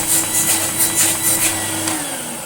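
A restored retro Electrolux Lite Deluxe Z1810 vacuum cleaner runs with a steady, loud motor whine and a slight pulsing airflow hiss, close and alone.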